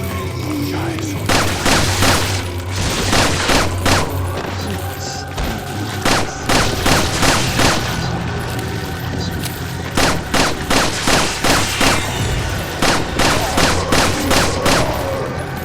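Shotgun blasts and a grenade in Resident Evil 4 sound off in rapid, loud bursts of repeated booming shots in clusters, with brief pauses between volleys and voices talking over the gunfire.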